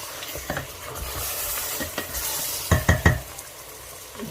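Vegetables going into a pot of Nigerian spinach stew, with a soft steady sizzle and a few sharp stirring and pot knocks toward the end, close and without talk.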